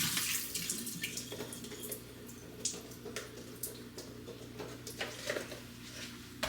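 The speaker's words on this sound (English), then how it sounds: "I'm gonna pour the water off now." Water pours and splashes from a pot of cut-up celery into a sink, a steady running stream with intermittent spattering bursts, close and moderately loud, with no talking.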